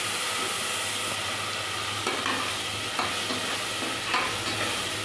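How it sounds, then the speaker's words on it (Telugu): Ginger-garlic paste fries with browned onions for a raw jackfruit biryani, making a steady, dense hiss that stays level throughout, broken by occasional light scrapes as it is stirred, with no voices. "వేగిన తర్వాత అల్లం తెల్లుల్లి పేస్ట్ వేసుకొని పచ్చివాసన పోయేంత వరకు"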